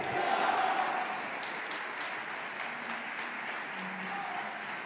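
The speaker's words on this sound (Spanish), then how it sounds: "Fortísimo aplauso al presidente Javier Milei" Audience applause for Argentine President Javier Milei after a speech at the Instituto Juan de Mariana in Madrid: dense, sustained clapping from a large hall, loudest at first then holding steady, with a few faint shouts.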